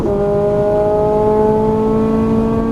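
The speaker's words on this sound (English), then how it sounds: "Roll the power and full throttle out." Ferrari 458 Italia pulling hard at full throttle, a loud, close, sustained engine howl with steadily held tones throughout, no voices.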